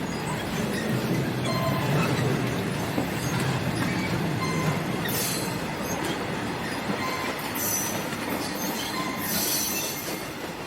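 Amtrak's westbound Capitol passenger train rolls past the old B&O station at Point of Rocks at moderate distance, wheels rumbling steadily with clickety-clack and a few high metallic squeals.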